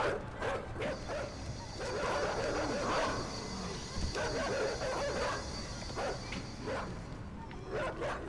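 Dogs bark and yelp in the side-scrolling video game Inside, several excited barks and whimpers in irregular bursts over a continuous game soundscape, with someone talking over it.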